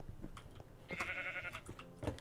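A Minecraft sheep lets out a short nasal bleat in the middle, mixed with soft game footsteps and clicks before and after, fairly close and moderately loud, with no speech.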